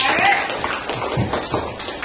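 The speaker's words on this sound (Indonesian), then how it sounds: "Tepuk tangan untuk kita semua ya" Elementary school pupils clap their hands in a classroom at a teacher's prompt, a quick, loud patter of claps at close range with talking mixed in.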